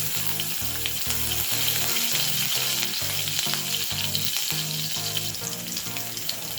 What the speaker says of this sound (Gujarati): તેલ ગરમ થાય કે આપણે 1 ટીસ્પૂન રાઈ નાખીશું